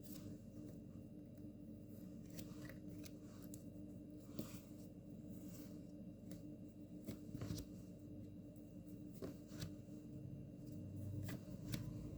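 Tarot cards shuffled close up, a quiet run of soft riffling, flicking and papery slides with occasional sharper snaps, steady throughout with no voices.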